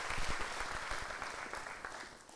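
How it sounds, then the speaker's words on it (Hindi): Audience applause welcoming a dance group at an inauguration event at Doordarshan Bhavan in Delhi, a dense sustained clapping from a crowd that gradually tapers off, with no speech over it. "सब जोरदार तालियों से उनका भी स्वागत करें।"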